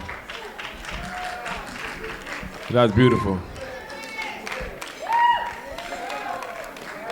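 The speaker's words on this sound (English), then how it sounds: "Y'all clap it up, y'all. Clap it up, guys. Clap it up." Wedding guests applaud and clap at a reception, a broad patter of hands running under steady talk and murmuring from the room, with a couple of louder swells.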